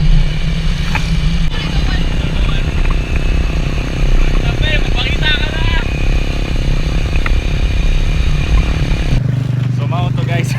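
A habal-habal motorcycle taxi rides toward a procession on Bantayan Island, its engine a constant close rumble with road clatter, while faint voices and bird-like chirps come through over the motor.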